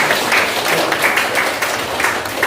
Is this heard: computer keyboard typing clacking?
no